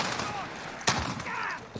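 Gunfire from the shooter game Call of Duty Warzone: a sharp, loud shot burst stands out amid game sounds, with a smaller report near the end and a voice talking over it.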